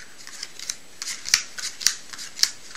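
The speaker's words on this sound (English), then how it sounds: "I'm going to continue dealing cards" Playing cards being dealt one at a time by hand during a card trick, a series of crisp, close snapping flicks in an irregular rhythm with soft sliding between them.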